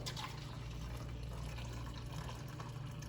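A steady, soft rush of hot, not boiling, water pouring continuously into a container while making arepas, faint and unbroken for a few seconds.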